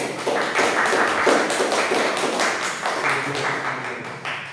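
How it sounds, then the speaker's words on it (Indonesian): An audience at a school class presentation claps hands together, a steady, dense patter of many hands continuing for several seconds without pause, moderately loud. "Kita kasih tepuk tangan dulu."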